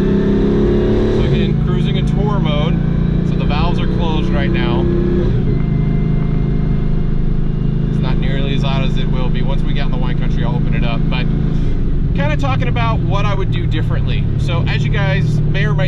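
A Chevrolet Camaro SS with an LT1 engine, exhaust valves closed in tour mode, hums at a steady low pitch close by while a person talks over it.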